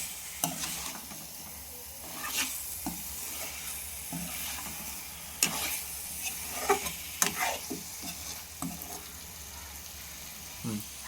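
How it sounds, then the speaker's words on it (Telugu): Masala paste frying in oil with boiled eggs for a spicy egg curry, a steady sizzle broken by frequent scraping stirs of a spoon against the pan, close and moderately loud. "ఈ పేస్ట్ ఎగ్కి పట్టేంత వరకు బాగా వేయించుకోవాలి."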